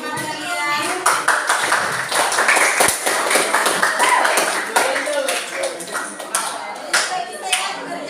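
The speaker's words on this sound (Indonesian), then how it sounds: "Tepuk tangan untuk teman kalian." Classmates clap together in a classroom, producing a sustained burst of fairly close, bright hand claps, with voices mixed in underneath.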